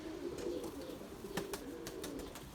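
Pigeons in a garden give low, soft cooing calls, repeating in a gentle rhythm close by, with a few sharp clicks and taps mixed in.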